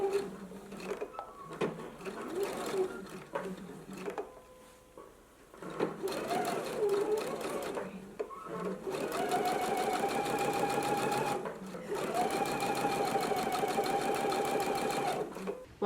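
A sewing machine runs a quarter-inch seam on a gingham dress, starting in short bursts with pauses, then settling into two long, steady whirring runs at close range.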